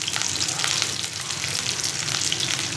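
Curry leaves and onion frying in hot oil in a pan, a dense, steady crackling sizzle, close and continuous throughout, with no voices.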